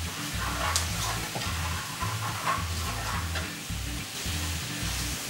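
Paneer gravy seasoned with garam masala cooking in a pan gives a steady, moderately loud sizzle over a rhythmic low thumping throughout, with scattered faint clicks and no talking.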